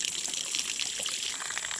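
Water running from a garden hose at a log duck pen, a steady close hiss of trickling, splashing water with no talk.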